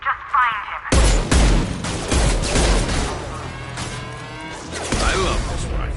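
Rifle gunfire in the Mass Effect 2 video game rattles out in loud, rapid bursts, dense and continuous after a short opening, mixed with impacts and game sound effects and brief voices.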